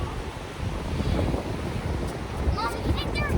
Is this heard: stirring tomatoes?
no